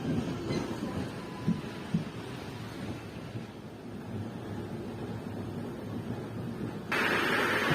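A passenger train on the Guwahati to Jorhat line rolls slowly past Panikhaiti station, giving a steady, close rumble with wind buffeting that grows suddenly louder and brighter near the end.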